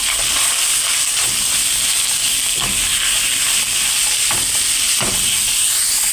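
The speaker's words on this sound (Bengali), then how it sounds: "এই যে এখন আমি ভেজে নেব।" Cloves, cardamom and bay leaf frying in hot oil for radish payesh give a steady loud sizzle and hiss, broken by a few soft stirring scrapes.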